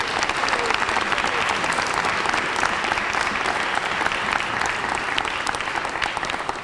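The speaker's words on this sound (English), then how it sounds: "Let's give him a round of applause for all the work that he's done." Sustained applause from an audience on the floor of the General Assembly honoring Tommy DeVito, founding member of the Four Seasons, a dense steady clatter of many clapping hands that holds at even loudness throughout.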